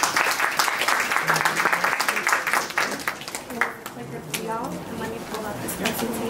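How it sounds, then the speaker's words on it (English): An audience at a Rutgers University Mail Services presentation applauds, dense clapping that thins out after a few seconds as a voice begins speaking. "let's give them both a round of applause and a good luck"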